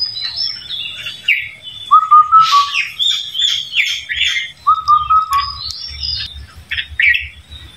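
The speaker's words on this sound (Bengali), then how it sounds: "দুইটা বুলবুলি পাখি একসাথে" Two bulbul birds calling together nearby, loud repeated chirps, whistles and sharp squawking notes trading back and forth without pause.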